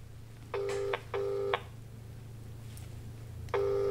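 Three bursts of DTMF dialing tones from a TicWatch Pro 3 LTE smartwatch placing a phone call, each tone pair about half a second, with two close together and a third after a pause, over a steady low hum.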